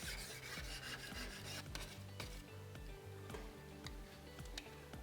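Hard food stains are scrubbed off an electric cooktop with soft, continuous rubbing and rasping, dotted with faint ticks and scrapes, quiet and close, with no talking.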